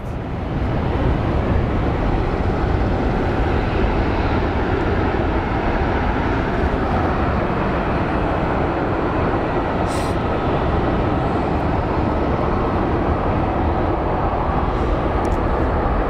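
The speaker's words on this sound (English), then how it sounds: "we have what looks like a 737-700 coming from Edmonton, operated by WestJet" A WestJet Boeing 737-700 from Edmonton arriving at Phoenix Sky Harbor, a steady broad jet-engine roar that holds loud and constant throughout, with no talk over it.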